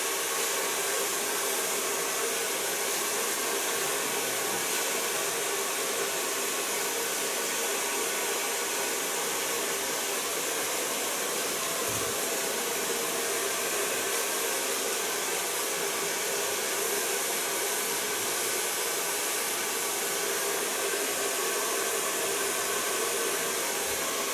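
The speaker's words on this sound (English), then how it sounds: "So far blow drying." A hair dryer blows steadily while styling hair after an asymmetric side and nape shave cut, a loud continuous broadband whoosh held at a constant level for the whole stretch with no talking.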